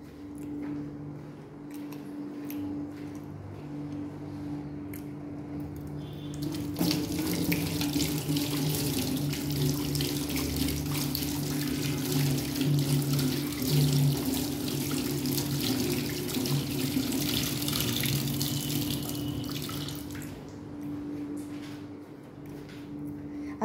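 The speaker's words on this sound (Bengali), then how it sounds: "আমি তো হাতটা ধুয়ে আসি," A kitchen tap runs while hands are washed, a soft trickle that swells into a steady, louder gush of water for about fifteen seconds before tapering off.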